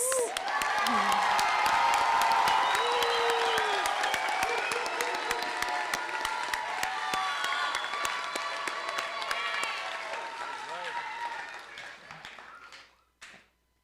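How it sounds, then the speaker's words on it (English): An audience at a spring nursing pinning ceremony claps and cheers for a campus group, a dense, loud wash of applause with whoops near the start that holds steady, then thins and fades out toward the end. "a round of applause for West Campus."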